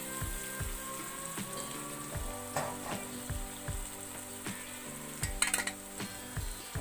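Fish coated in masala fries in a kadai with a soft, constant sizzle, while a spoon stirs and taps against the pan at regular intervals. It stays fairly quiet and there is no talk.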